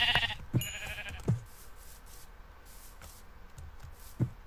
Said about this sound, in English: We needed a sheep.